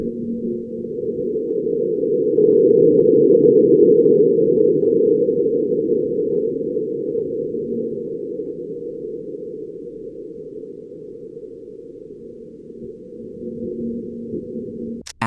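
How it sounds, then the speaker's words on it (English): Mars quake recorded by NASA's InSight lander, heard as a low, rumbling, band-limited drone that swells over the first few seconds and slowly fades, alone with no talking. "this sound was caught, and it is believed that it was the Mars quake"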